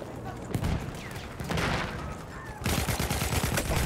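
Rapid bursts of automatic and rifle fire in Battlefield 1, a World War I shooter with old weapons, packed close together and loud, with a heavier burst near the end.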